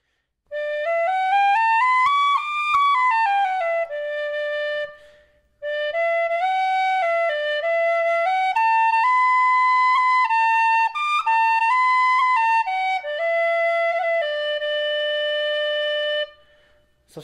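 A Music Morneau Mark 1 chromatic whistle plays a solo melody of bright, clear tones, with sliding phrases and held notes, a brief pause near the middle, then more sustained notes.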